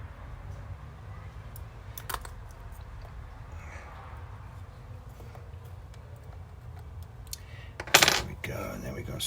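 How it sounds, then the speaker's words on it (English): Small laptop screws handled and set back in place during a touchpad repair, heard as faint scattered metallic ticks and clicks over a low room hum, with one sharper louder clatter near the end. "Put all these screws back together."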